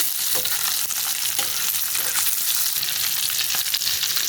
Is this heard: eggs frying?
yes